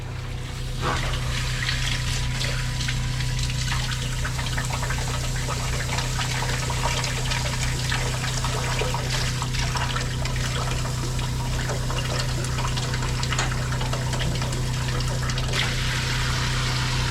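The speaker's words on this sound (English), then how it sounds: "So I'm going to fill this with water." Water runs steadily into a container to fill it for bathing a dog, a continuous splashing, trickling pour heard up close and loud for the whole stretch, with a low hum underneath.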